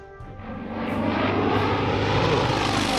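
A Japanese airplane engine in the World War video game Order of Battle Pacific gives a loud, steady drone that swells over the first second and holds.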